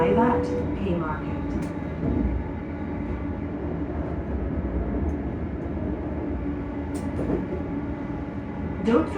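A ScotRail Class 385 electric train's traction motors hum steadily from inside the carriage on the approach to Haymarket, a continuous rumbling drone with a recorded announcement voice over it.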